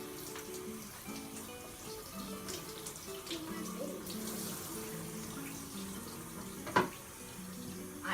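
Water runs steadily from a tap while a child's hair and scalp are washed, a constant close splashing hiss with soft music underneath and a brief louder splash near the end.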